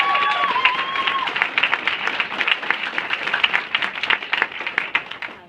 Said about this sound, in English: A round of applause for Lauren.